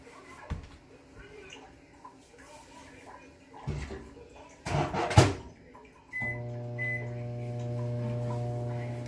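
A kitchen microwave oven running while cooking, a steady tonal hum that starts partway through and continues to the end, preceded by clattering and handling noises nearby.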